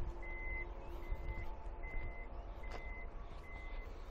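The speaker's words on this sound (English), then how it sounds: "Boot control unit closes automatic." The powered boot of a 2017 Toyota Kluger closes automatically, sounding a steady series of repeated electronic warning beeps over a faint hum, heard at moderate distance and fairly quiet, with no talk.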